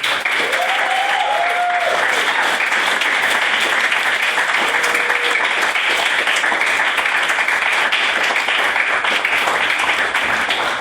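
A room applauds a maiden speech at a debate, with dense, steady clapping running throughout at an even level, while a few brief voices rise faintly underneath near the start.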